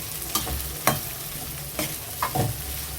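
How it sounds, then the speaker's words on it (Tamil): Cabbage, onion, tomato and dried red chillies sauté in oil with a continuous sizzle, punctuated by a few distinct spoon scrapes and stirring strokes against the pan. "நல்லா வதக்குவோம்"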